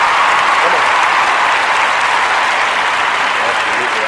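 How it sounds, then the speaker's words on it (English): Steady, dense canned applause from a sound-effect track, loud and unbroken with no gaps or swells, like a wash of many clapping hands on a radio show. "Every second of that fake applause all night long"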